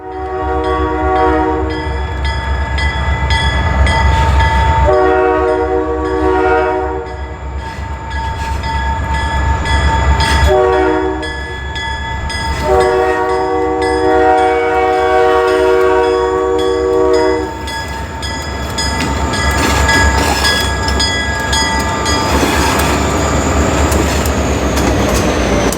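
A Pan Am DO-1 freight train hauling center beams and boxcars rolls past on the Portsmouth Branch in winter, its horn sounding in several long blasts over a continuous low rumble of wheels and engine.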